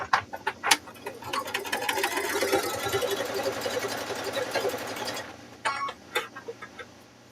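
A sewing machine stitches folded fabric-wrapped rope for a rope bowl, running in one steady continuous burst with a rapid mechanical chatter, preceded and followed by brief clicks and handling noises up close.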